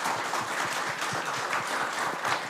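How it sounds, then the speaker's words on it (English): A school audience gives a round of applause at PLC School, steady dense clapping from many hands that holds evenly throughout. "Can you give me a round of applause?"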